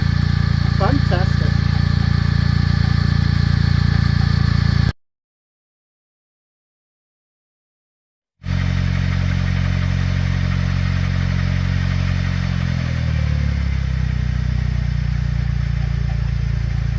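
A Smart ForTwo engine runs loud and close after an oil top-up with a 0W40 and 0W30 mix, a steady idle that cuts to a few seconds of silence, then resumes with a settling, shifting drone.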